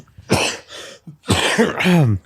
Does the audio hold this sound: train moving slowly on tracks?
no